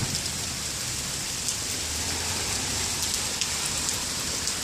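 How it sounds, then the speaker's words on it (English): Steady rain falls outdoors, a dense, even hiss of drops on surfaces with occasional sharper drips, constant and moderately loud with no talk. "It's raining right now."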